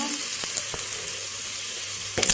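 Onions frying in a pan for an Odia crab curry, a steady close sizzle with faint stirring clicks and a louder scrape near the end.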